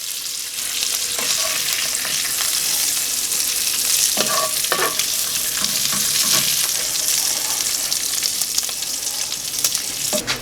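Goat meat sears in chorizo fat in a pan on a Kamado Joe grill: a loud, continuous sizzle with a few clunks and scrapes as pieces are turned, no talking.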